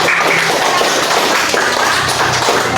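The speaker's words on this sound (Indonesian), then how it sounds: "Tepuk tangan untuk kalian semua." A class of students in a classroom claps for themselves, a dense, continuous patter of hands at close range, fairly loud and steady throughout.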